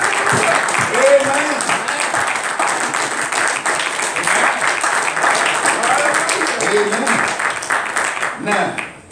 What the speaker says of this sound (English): I want all the men to just give the woman a hand clap of praise.